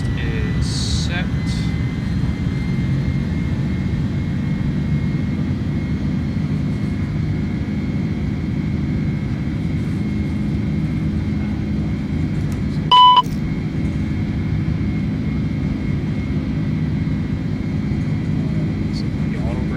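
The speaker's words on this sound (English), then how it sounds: "Takeoff thrust is set." Airbus A310 engines at takeoff thrust in Microsoft Flight Simulator, a steady, loud jet roar that holds through the whole stretch, with a brief beep near the end and a faint chime early on.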